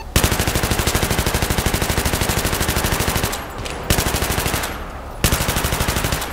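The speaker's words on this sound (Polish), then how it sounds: "Ale się fajnie strzela." Rapid automatic gunfire in long sustained bursts with two brief pauses, loud and close.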